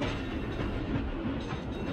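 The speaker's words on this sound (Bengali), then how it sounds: "নন্দবাবু হক সাহেবের বাজার হইতে ট্রামে বাড়ি ফিরতেছেন" A tram rumbles steadily along its track, a dense continuous roar with a faint rhythmic clatter underneath, close and unbroken throughout.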